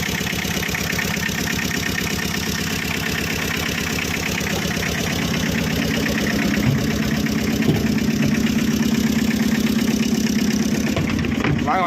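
Tata Ace HT mini truck engine idling nearby, a loud, steady diesel chug with a fast regular knock that runs unbroken throughout, with faint speech partly under it.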